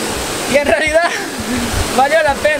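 Water of the Hurmana waterfall pours steadily over rocks as a broad hiss in the background, while a person talks in short bursts over it.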